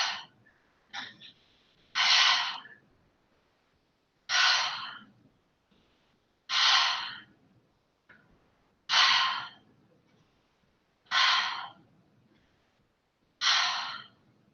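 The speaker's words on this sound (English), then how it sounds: "When you inhale, your belly expands. When you exhale, you pull your belly button towards your spine." Slow, deep breaths in a guided breathing exercise, about seven long, close airy exhales at a steady pace of roughly one every two to two and a half seconds, each separated by near silence.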